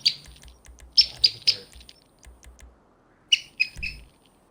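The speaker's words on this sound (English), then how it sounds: "I am squeaking a little squeaker on Aaron's toy for him" A rubber squeaker dog toy squeezed in bursts of sharp, high, bird-like chirps, several quick squeaks near the start and another cluster of three toward the end, fairly close and clear with no talking.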